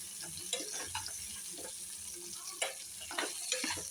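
Eggplant fried in oil for kathirikai kulambu, a soft steady sizzle with scattered pops and scraping stirs, close by and fairly quiet, no voices.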